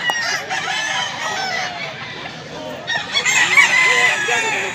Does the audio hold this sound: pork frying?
no